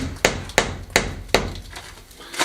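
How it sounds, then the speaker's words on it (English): Four sharp hammer taps on stone at a steady pace, tapping a stone into place in an old Spanish farmhouse wall, close and fairly loud, followed by a quieter knock. "Give him a tap in."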